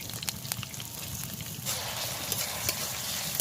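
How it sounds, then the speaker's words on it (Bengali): Chopped garlic and onion frying in hot oil in a pan, a close, fairly quiet bubbling sizzle with scattered pops that grows denser and brighter partway through, with no talk. "এদিকে তেল গরম হয়ে গেছে রসুন কুচি দিয়ে দিচ্ছি"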